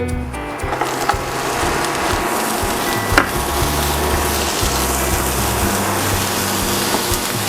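Chopped onion frying in olive oil in a pan, a steady dense sizzle throughout with faint clicks and scrapes on top and no talking.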